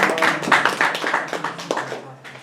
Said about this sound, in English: give a clap to Sorb